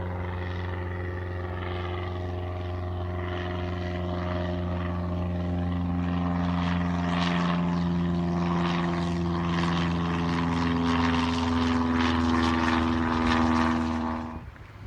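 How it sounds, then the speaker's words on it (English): A propeller aircraft, said to sound like a Cessna, drones steadily overhead with a low engine hum and propeller buzz that grows slightly louder before fading at the end, heard on its own. "Sounds like a Cessna."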